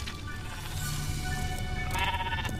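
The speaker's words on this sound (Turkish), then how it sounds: "Bakın artık bir sürü koyunumuz var." A flock of cartoon sheep bleats in an animated series, several wavering bleats overlapping close up, rising louder toward the end with no speech over them.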